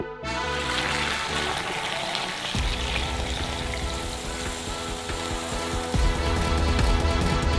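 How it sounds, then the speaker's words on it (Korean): Hot coffee fresh off the stove pours steadily into a large cup for a giant latte, a loud continuous gushing stream heard up close without speech. "커피는 이미 끓었으므로 스토브에서 꺼내 큰 컵에 부어주세요"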